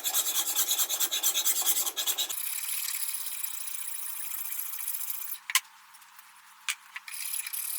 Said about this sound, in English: After buffing wheel, I use different types of files and scrapers.